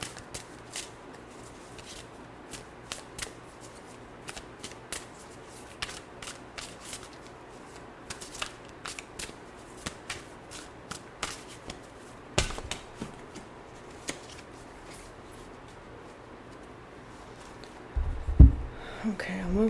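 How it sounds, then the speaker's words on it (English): A deck of cards shuffled by hand, giving soft repeated riffling and flicking bursts over a low background hum, close but fairly quiet, with a louder handling thump near the end. "I'm a really great shuffler, as you can tell."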